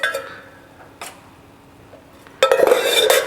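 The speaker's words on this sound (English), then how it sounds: "I'm using a old fashioned glass, a rock glass over here, and I'll put some ice into it first" Ice put into an old fashioned rocks glass while mixing a cocktail, a few sharp clinks and knocks followed by a louder clattering burst of cubes near the end.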